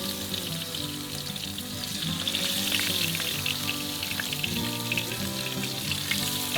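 Fish sizzling in hot oil in a thin pan, a steady, close crackling fry that grows a little more intense partway through. No talking over it.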